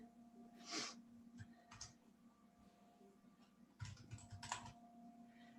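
Quiet bursts of typing on a computer keyboard, short clusters of clicks separated by pauses, close and soft with faint breathing and no talk.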